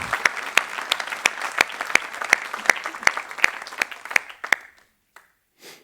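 A church congregation applauds with a strong, regular rhythm of loud claps close by. The clapping fades and thins out toward the end, leaving a few last scattered claps.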